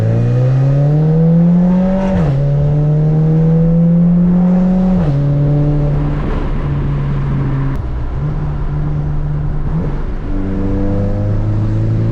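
Sports car engine passing nearby on a street in Mexico, a loud sustained roar with shifting pitch as it accelerates through gears, heard from inside another car over wind noise.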